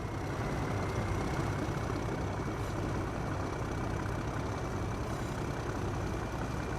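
Diesel locomotives idle in a train simulator game on the Huddersfield Line, producing a continuous, even low drone that neither rises nor falls.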